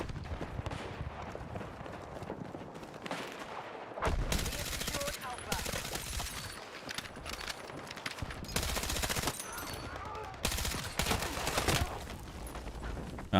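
Rapid gunfire in Battlefield 6 comes as dense automatic bursts with repeated loud volleys and short pauses, set against constant battlefield noise, while a voice talks now and then underneath.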